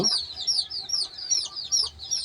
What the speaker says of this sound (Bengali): এই মুরগিগুলা 7 দিন হয়ে গেছে, মুরগির বাচ্চাগুলার